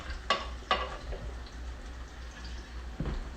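Cheese-filled chicken cutlets fry in a cast iron pan at moderate heat, giving a low steady sizzle with a few sharp clinks and scrapes of utensil handling, close by and with no talking.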